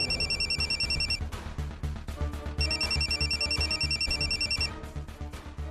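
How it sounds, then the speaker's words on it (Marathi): Telephone ringtone in a Marathi household drama scene, a bright repeating electronic melody that plays in two loud bursts over a steady backing of music, with no talk. "मम्मींचा फोन आहे."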